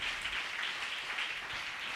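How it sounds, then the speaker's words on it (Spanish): A church congregation applauds during a worship service, a dense, even wash of many hands clapping that holds steady for the whole stretch with no talking. "Dele palmas al Señor"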